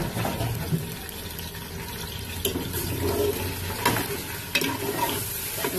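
Meat sizzles in ghee with garlic and ginger in a pot, a steady moderately loud frying hiss broken by occasional scraping and stirring clatter, with no talking.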